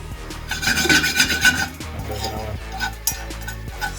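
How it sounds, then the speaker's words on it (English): Dry coconut toasting in a pan as it is pushed around, close rasping scrapes of a spoon across the metal in quick repeated strokes, fading into lighter intermittent scratching. "we're just going to make sure that we are moving the coconut around and getting nice and toasty"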